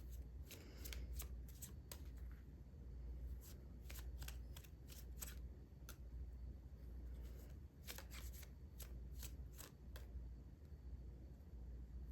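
Lenormand cards are shuffled in repeated bursts of crisp riffling flutter against a low steady hum, close and quiet, with short pauses between runs and no talking.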